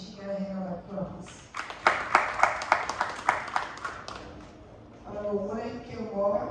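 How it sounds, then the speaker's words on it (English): A small audience at a Liberia National Police event gives a short burst of clapping lasting a few seconds, rising between spoken announcements from a speaker before and after. "Can she get a hand on applause?"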